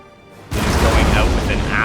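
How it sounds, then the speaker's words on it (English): A massed cannon volley in the game Napoleon: Total War, erupting suddenly into a loud, sustained booming roar of artillery fire that rumbles on to the end, with a commentator's voice faintly over it. "He's ready to fire it with all available cannons. There's a volley from the Svenenfolden."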